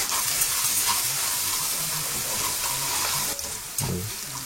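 Risotto rice toasting with shallots in a hot pan gives a steady, close hiss and sizzle, continuous throughout with occasional stirring scrapes and no talk.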